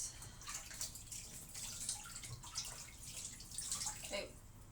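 Tap water runs in a home kitchen sink as something is rinsed, a steady hiss-like splashing at moderate level with a brief gurgle near the end and faint voice-like sounds mixed in.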